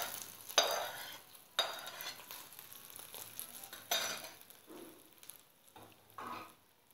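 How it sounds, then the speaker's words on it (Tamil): Hot tempering stirred into curd rice with a spoon in a bowl, giving soft wet scraping and squelching strokes with occasional light clinks, close up and irregular, with no talking. "இப்போ நம்ம கலந்து வச்சுருக்கக்கூடிய அந்த தயிரோட இதை அப்படியே சேர்த்துக்கலாம்."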